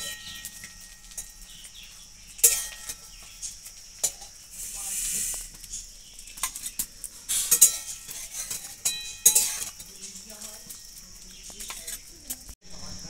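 A spongy egg omelette is flipped in a pan fried in leftover potato oil, with scattered metallic clinks and scrapes of a utensil over a faint sizzle, close and uneven.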